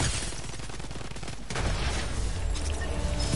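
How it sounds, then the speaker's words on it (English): Rapid video game gunfire crackles in a dense, steady volley across the whole stretch, getting a little louder and heavier about halfway through, with no voices over it. "I'm just gonna shoot him quickly."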